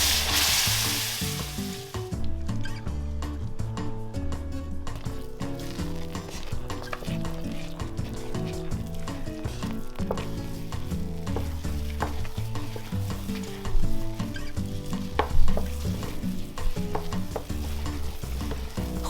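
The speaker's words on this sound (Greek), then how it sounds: "Βάζουμε πάλι την κατσαρόλα στο κλειστό μάτι της κουζίνας και ανακατεύουμε μέχρι να πήξει." A spoon stirs thickening semolina orange halva in a pot on the stove, scraping and clinking in a steady rhythm over soft sizzling, with a few louder knocks near the end and no one talking.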